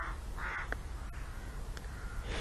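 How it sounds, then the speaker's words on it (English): A crow caws several times, harsh nasal calls spaced about half a second to a second apart, fairly distant against a steady outdoor background rumble. "There's a crow saying"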